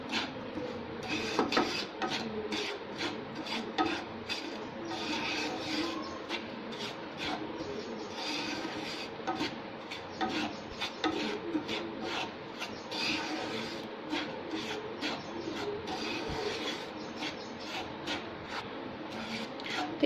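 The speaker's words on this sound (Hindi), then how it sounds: "तो एक मिनट के लिए हमें थोड़ा मीडियम फ्लेम पे इसे भूनना है।" Dry semolina being roasted over a medium flame and stirred in a pan gives a steady, close scraping and rubbing that runs for about twenty seconds in a quick, even rhythm.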